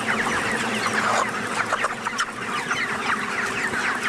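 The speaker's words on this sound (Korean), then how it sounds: "경기도 안성시 보계면에 위치한 닭 사육장을 다시 찾았다" A crowded flock of young chickens in a poultry farm shed in Anseong, Gyeonggi Province, clucks and chatters continuously, many overlapping calls close by and fairly loud, with no speech.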